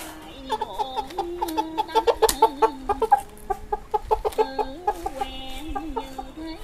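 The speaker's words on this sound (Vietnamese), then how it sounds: "chụp mấy con gà này được" Chickens cluck close by in a series of short, rhythmic clucks and squawks that grow busier midway, a farmyard flock being caught at night, with no talk over them.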